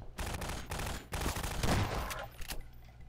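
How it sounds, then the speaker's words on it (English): Shotgun blasts fire in the shooter Half-Life 2, coming as a rapid run of loud, close booms about every half second with reverberant tails, and no voices over them. "With a shotgun."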